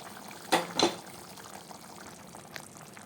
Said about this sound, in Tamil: நமக்கு ஒரு அஞ்சு நிமிஷமாக கொதிச்சிட்ருக்கு லிட் ஓப்பன் பண்ணிவிடுவோம்